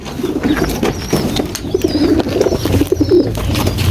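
Pigeons cooing in a loft, close and repeated soft throaty coos overlapping one another, with a few faint chirps and light rustling in the background.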